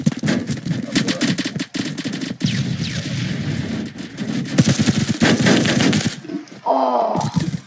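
Rapid automatic gunfire in the Phantom Forces video game, loud sustained bursts of close-range shots with brief pauses and a short quieter tail, no talk.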